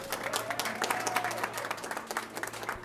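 Applause from an audience at an MTA press conference, a steady patter of many hands clapping at moderate volume with a faint murmur of voices underneath.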